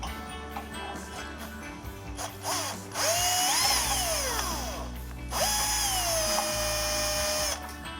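Power drill backing out screws at the rear of a Whirlpool electric cooker hood, two loud whining bursts with rising then falling pitch, separated by a quieter ratcheting mechanical hum, close up with no talking.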